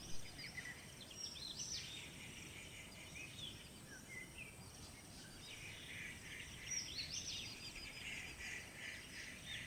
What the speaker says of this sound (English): the birds became more active with increased noise